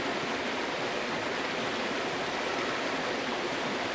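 Creek water streams steadily as a dense, even rush close by, with no voices, constant and unbroken throughout.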